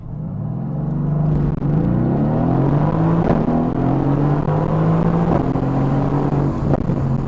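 A Mercedes-AMG GT S in race mode accelerates at full throttle, its engine note climbing steadily through rising pitch with brief dips at gear shifts, loud and close from inside the cabin.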